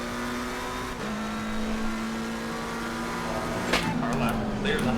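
A race car on a qualifying lap at the Red Bull Ring, its engine droning at a steady high pitch that shifts as it revs and changes gear, loud and close throughout.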